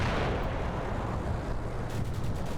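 Gunfire from BMP infantry fighting vehicles pounding houses in the Cold War wargame Combat Mission: Cold War, a dense, loud, continuous roar of blasts and rumbling impacts with no pauses.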